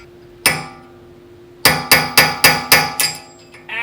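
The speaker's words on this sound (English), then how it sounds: "All you do is you drive like a little steel wedge in there, and it expands the wood and holds it." A hammer drives a small steel wedge into a wooden tool handle, with one sharp strike followed after a pause by a rapid run of six loud, ringing metallic blows, close and alone.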